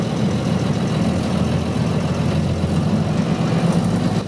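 A Mercedes-Benz LPS 2024 truck with a V10 diesel engine idles with a loud, steady, deep rumble that runs throughout without any talk.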